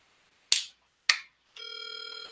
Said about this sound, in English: we got the first ringing